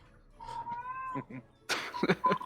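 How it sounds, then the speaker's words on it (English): A cat meows close by, first a long drawn-out call, then shorter chirpy meows after a brief pause, loud and attention-seeking. "That is a very attention-hungry cat."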